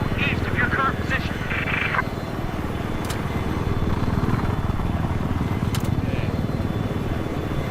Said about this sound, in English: Here's the helicopter